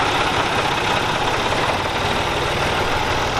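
A truck engine, just started, runs with a loud, dense, continuous idle rumble close by, steady throughout with a rough knocking texture.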